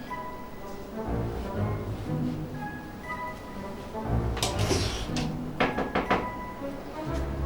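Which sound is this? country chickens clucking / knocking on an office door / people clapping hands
knocking on an office door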